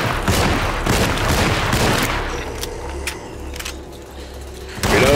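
Rapid gunfire in the video game Alone in the Dark as a full magazine is emptied, a dense loud burst of shots followed by scattered sharper reports and a final blast.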